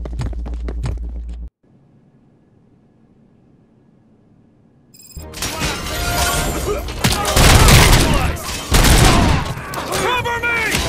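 Gunfire rips through a bank heist shootout in the video game RoboCop Rogue City. A short quiet lull gives way to loud, dense, overlapping bursts of shots and booms.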